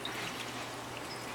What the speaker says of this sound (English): I've been pouring it over his face lately.